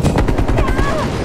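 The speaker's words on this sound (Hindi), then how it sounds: "अबे मुझ पे फायर कर रहे सारे।" Automatic gunfire in the Call of Duty Black Ops Cold War multiplayer Garrison map, Domination mode, rattling in a fast continuous burst with other game noise layered beneath.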